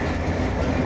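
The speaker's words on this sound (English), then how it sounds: "I am on the train" Interior sound of a fast-moving train heading to Dublin in Ireland, with steady loud rumble and clattering wheels on rails filling the whole moment, no voices.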